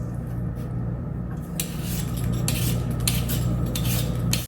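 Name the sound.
buttering a muffin tin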